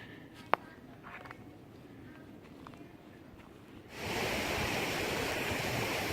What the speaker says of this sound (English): And I believe this is Upper Cedar Rock Falls.